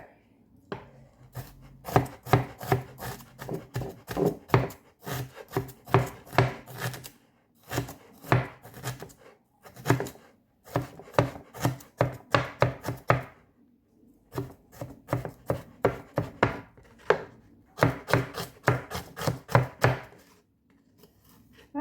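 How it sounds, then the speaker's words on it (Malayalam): A knife chops rapidly on a cutting board in repeated bursts of sharp, close taps, separated by short pauses. "ഞാൻ ഈ അരിയുന്ന കാണാൻ നല്ല രസമുണ്ടെന്ന്"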